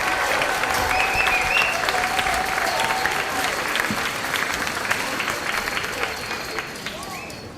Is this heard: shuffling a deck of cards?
no